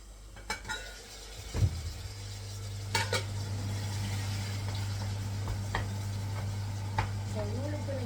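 A pot of vegetables simmers with a low steady bubbling rumble, punctuated by a few clinks of a utensil against the pot and occasional soft scraping.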